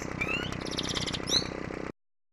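A sound run through the Zynaptiq Morph 3 Pro Imprint Smooth morphing effect comes out as warbling, chirpy tones over a soft, gritty bed, then cuts off suddenly into silence.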